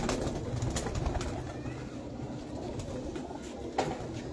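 Pigeons coo softly at rooftop lofts, low repeated calls over a steady background hum, with one brief sharper sound near the end.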